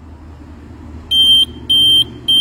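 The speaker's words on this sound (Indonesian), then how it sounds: "Ini alatnya sudah aktif, jadi ketika menerima gerakan dia akan otomatis berbunyi" A motion-activated home alarm sounds a shrill electronic beep in three evenly spaced bursts, loud and close, over a faint room hum.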